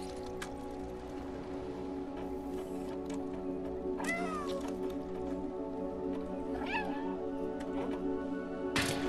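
A person imitates a cat's meow, several short rising-falling mews spaced a few seconds apart, over a steady humming game backdrop with a sharp noise burst at the end.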